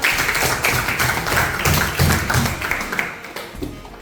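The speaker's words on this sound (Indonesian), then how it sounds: "Oke, tepuk tangan." A brief round of hand clapping from a small group in a classroom, steady and moderately loud, fading out after a few seconds.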